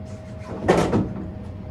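A furnace filter access door is pulled off, making a short rattling clunk and scrape in the middle of otherwise quiet room tone, close and moderately loud.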